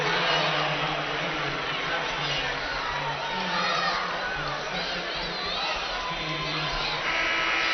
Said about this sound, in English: Two big crowds here, two huge student sections.